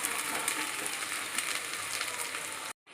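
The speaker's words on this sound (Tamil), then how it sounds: "இந்த பூண்டு நல்லா இந்த எண்ணெயிலே வேகட்டும்" Garlic frying in oil in a pan, a steady dense sizzle that stays loud and even for nearly three seconds before cutting off abruptly.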